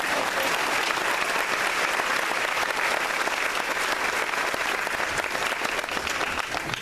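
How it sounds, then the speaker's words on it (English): An audience at a military family day ceremony at Fort Jackson breaks into loud, sustained applause, a dense wash of clapping from many hands that stays steady throughout with no speech. "That's a pregnant applause, there you go."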